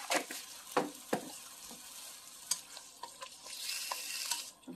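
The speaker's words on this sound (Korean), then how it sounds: "그래서 한 20분 졸여낼게요" Lotus root simmers in soy sauce, syrup and sugar in a pan, giving a low bubbling sizzle broken by a few sharp clinks and scrapes of a utensil.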